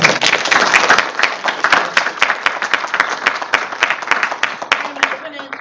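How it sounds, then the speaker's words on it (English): An audience claps for a panel at a discussion event, a close, sustained round of many individual hand claps with a crisp, busy rhythm that tapers slightly toward the end. "can we give our panel a round of applause?"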